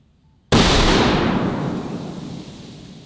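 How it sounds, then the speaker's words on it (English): A single deafening shot from a Barrett .50 cal rifle fired into a giant clay block booms suddenly after brief quiet, then rolls away in a long decaying echo outdoors. "the rifle we're using is the beautiful Barrett 50 cal"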